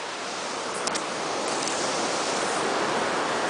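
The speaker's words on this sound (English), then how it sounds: "Here we are in the Pacific Ocean." Pacific Ocean surf on the coast at Pacifica, California, gives a steady, broad roar of breaking waves, loud and continuous, with no voices.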